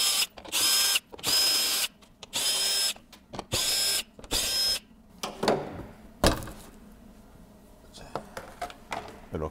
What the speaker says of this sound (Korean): 이제 나머지는 10mm 복사알로 풀어보겠습니다.